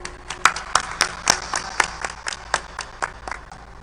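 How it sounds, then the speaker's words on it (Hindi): Audience applause greeting a guest at a formal stage ceremony, a thin scattered patter of claps with a few sharper individual hits, moderately close and fairly quiet, with no talking over it. "एक बार जोरदार तालियों से स्वागत करें।"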